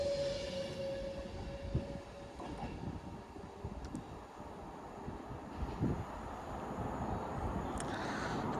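Class 390 unit 390 006 bound for Manchester Piccadilly passes through Wilmslow station, a steady rolling rumble with a faint high whine early on, moderately near and without talk.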